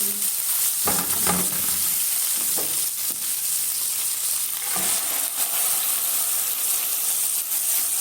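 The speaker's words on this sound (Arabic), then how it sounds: "هحاول كده اقلب فيها لحد ما لونها يتغير" Chicken liver and gizzards stir-fried in a pan: loud continuous sizzling and hissing with steam, broken by several scraping stirs and clatters, no voices.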